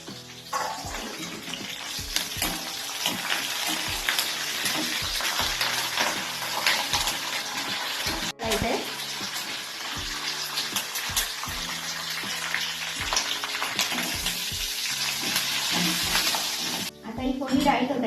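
Curry leaves sizzling and crackling in hot oil for tempering dal fry, a steady loud hiss with frequent sharp pops throughout.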